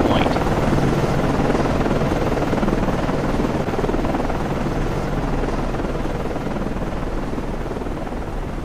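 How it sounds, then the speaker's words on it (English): Steady, loud helicopter rotor and engine roar as an aircraft launches from a guided-missile cruiser in the naval game Cold Waters, a continuous dense wash throughout the clip. "Con, flight code, launching aircraft."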